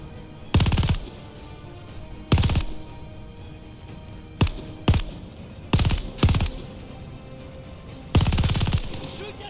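Bursts of automatic gunfire in Call of Duty Vanguard, set in World War II: six sharp, loud volleys spaced irregularly, some short and some lasting about half a second, over a low background rumble.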